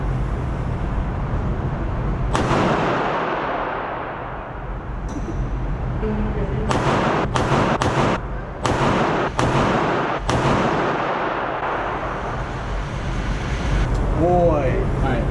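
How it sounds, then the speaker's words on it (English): Rifle shots ring out at an outdoor shooting range, including .300 Blackout and a SCAR 17, with several sharp, loud cracks in an irregular sequence over steady background noise and people talking. "Alright, that was the first shot."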